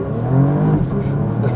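Porsche Panamera Platinum Edition in Sport Plus mode launching hard, its engine note loud and close with a rising roar, heard from inside the car, with a voice speaking over it.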